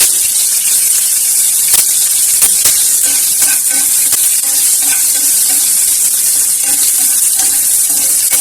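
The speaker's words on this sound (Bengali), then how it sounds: "অল্প একটু তেল দিয়ে পেঁয়াজ আর মরিচটা ভেজে নিলাম।" Onion and chili frying in a little oil in a village-style kitchen, a steady hissing sizzle with faint crackles and pops running continuously at close range, no voices.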